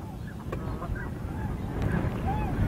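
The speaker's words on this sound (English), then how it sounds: "These are tundra swans and they're only going to stop around here for a while" Tundra swans resting on sloughs call with soft, scattered honking hoots, several birds at a moderate distance over a steady backdrop of wind and water.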